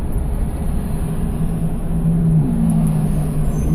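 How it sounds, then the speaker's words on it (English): Steady street traffic with engines humming and droning, one vehicle accelerating with a rising engine tone partway through, a continuous loud urban roar with no speech. "goddamn traffic"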